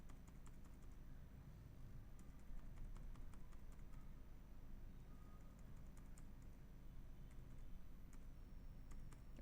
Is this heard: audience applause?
no